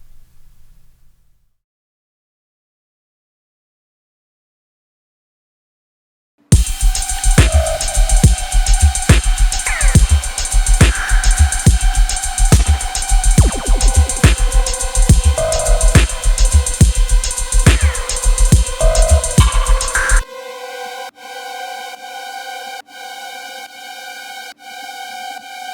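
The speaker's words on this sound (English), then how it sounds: "It's just a couple saw waves, some filtering, EQ, and reverb and delay." A synthesized vocal-like transition effect built from a couple of saw waves with filtering, EQ, reverb and delay: a dense buzzy tone swelling after silence, then a sustained shimmering harmonic tail, loud and alone.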